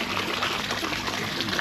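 Floodwater being scooped and poured with a bucket inside a flooded home during a typhoon and power outage, a steady close splashing trickle and pour throughout.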